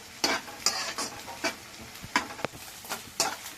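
Small pieces for fried rice sizzle in a pan as a spatula stirs and taps, making a run of sharp scraping clicks about every half second over a soft frying hiss.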